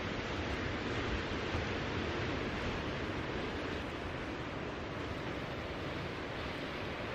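Ocean waves rolling onto the shore on a cloudy day, a continuous broad rushing wash of surf with steady loudness and no distinct breaks, heard alone without talk.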